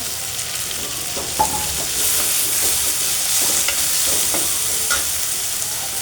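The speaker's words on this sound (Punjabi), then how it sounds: "ਪਿਆਜ਼ ਵੀ ਜਿਹੜੇ ਆਪਣੇ ਭੁੱਜ ਗਏ ਆ ਤੇ ਹੁਣ ਇਹਦੇ ਵਿੱਚ ਪਾ ਦਿੰਨੇ ਆਪਾਂ ਟਮਾਟਰ" Fried onions sizzle in a pan as tomatoes go in for an arbi (taro) vegetable dish: a constant frying hiss broken by repeated scraping stirs, close and with no talk.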